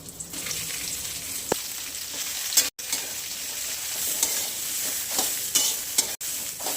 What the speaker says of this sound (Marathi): ही भेंडी मी अशीच परतून घेणार आहे